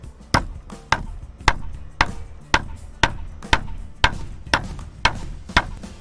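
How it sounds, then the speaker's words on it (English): Steady hammer blows strike close by, driving a metal mount into wood, about a dozen evenly spaced sharp knocks, each ringing briefly before the next. "we're going to get a hammer and carefully hammer this down into the wood itself"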